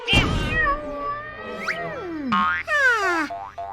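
A cartoon cat gives several drawn-out, bending meows, loud and close, with a springy boing effect mixed in at the start and no talking.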